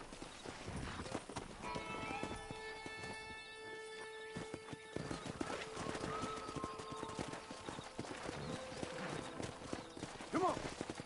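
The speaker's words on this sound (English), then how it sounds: "Let's see if we can't wrangle some horses." Horse hooves clip-clop steadily amid a busy, layered Red Dead Redemption soundscape with occasional whinnies and soft background tones.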